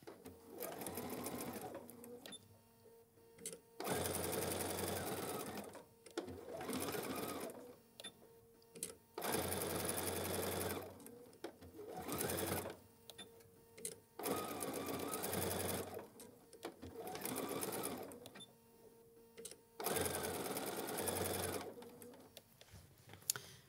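A sewing machine runs in repeated bursts, back tacking the handles of a fabric holiday gift bag, each stitching run starting and stopping with short quiet gaps between, close and clear with no talk.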